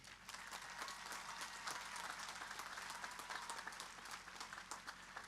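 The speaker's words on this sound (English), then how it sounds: "let's give a moment of applause for all of those who helped us get here today." Crowd applause at a high school graduation ceremony for the class of 2024, a dense, even patter of many people clapping, heard from a distance and quiet throughout.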